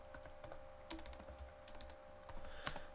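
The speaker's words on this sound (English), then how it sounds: "we're going to type" Rapid keystrokes on a computer keyboard while code is typed, a quick uneven run of soft clicks over a steady low hum, faint and close, with no talk.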